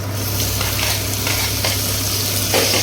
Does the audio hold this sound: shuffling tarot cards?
no